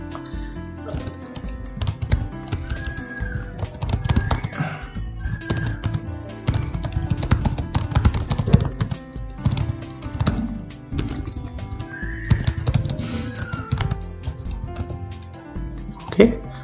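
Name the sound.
typing remarks on a computer keyboard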